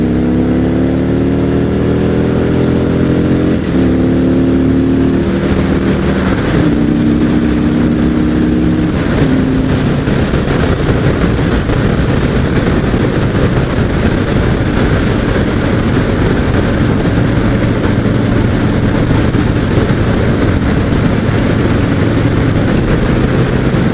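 A 2017 Harley-Davidson Road King Special with the 107 engine rumbles loudly on a ride, its deep exhaust note rising through several gear pulls before settling into a steady, wind-buffeted cruise.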